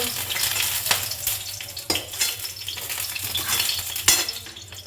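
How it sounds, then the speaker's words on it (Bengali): Bitter gourd pieces and stalks frying in hot oil in a pan, a continuous loud sizzle broken by a few sharp stirring scrapes and clinks of the utensil against the pan, with no talking. "উচ্ছেটা এর মধ্যে ঢেলে দিয়েছিলাম, তো দেখলাম উচ্ছেটা ভাজতে ভাজতে ডাঁটাটা আরও বেশি পুড়ে উঠবে"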